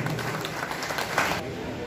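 An audience at a groundbreaking ceremony applauds briefly, a soft, dense patter of clapping that fades out before two seconds, with faint voices underneath.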